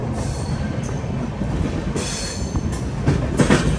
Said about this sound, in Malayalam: ഗോണ്ടിയ ജംഗ്ഷൻ റെയിൽവേ സ്റ്റേഷനിലേക്ക് നമ്മുടെ ട്രെയിൻ എത്തിക്കൊണ്ടിരിക്കുകയാണ്